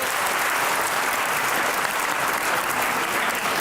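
Dense, continuous applause from a studio audience during a comedy interview show, loud and even from start to finish with no voices breaking through.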